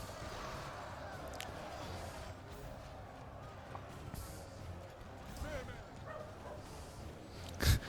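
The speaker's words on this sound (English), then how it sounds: "You hear the dog barking in the houses." A dog barks somewhere in the distance among houses in the video game Medieval 2: Total War, beneath a steady wash of game-world noise and talking, the barks faint and intermittent.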